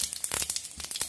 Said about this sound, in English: Then add jeera, mustard seeds